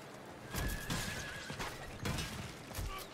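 A horse whinnies loudly and close in the Diablo IV video game, two shrill neighs with hoof clops, with faint game sounds around them.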